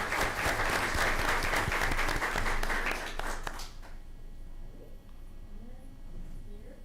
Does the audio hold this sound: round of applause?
yes